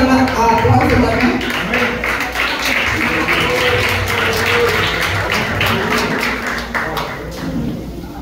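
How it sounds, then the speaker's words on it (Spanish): A church congregation applauds its pastor, loud mixed clapping and thumps with voices talking and calling out over it throughout. "Recibimos un fuerte aplauso también"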